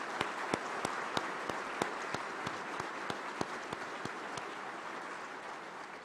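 An audience at an Eagle Scout recognition dinner applauds, with a crowd's steady clapping at a moderate distance. One clap lands louder on a regular beat, and the sound thins out toward the end.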